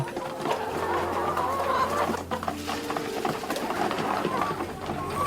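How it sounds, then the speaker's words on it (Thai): Chickens clucking in a school poultry house in the morning, a steady mix of clucks and busy calls from many birds with some voices in the background. "จะเข้าไปดูแลไก่ที่โรงเรือน"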